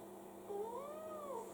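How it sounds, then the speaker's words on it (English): A cat meows once in a drawn-out, rising and falling call, close and fairly clear over a quiet background hum. "my cat talks like that all the time. You can meow at the end of every sentence."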